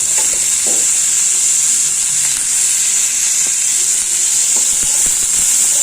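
Chopped tomatoes sauté and sizzle in a hot pan with a constant bright frying hiss, broken by occasional stirring scrapes and clinks of a utensil against the pan, close and loud with no talking.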